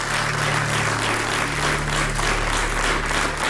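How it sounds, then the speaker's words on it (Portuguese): Dense, steady applause from a Portuguese daytime TV talk show studio audience, welcoming two economist guests, sustained and loud throughout with a low electrical hum underneath. "Um aplauso para os dois."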